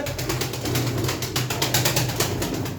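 Pigeons coo in low, soft, repeated murmurs, close by and steady, with no voices present.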